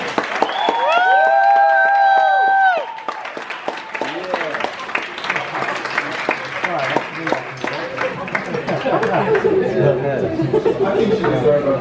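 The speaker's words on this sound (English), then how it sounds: "I think she deserves another round of applause." A sung note rings out, then a crowd breaks into applause with scattered cheers, clapping building and continuing to the end.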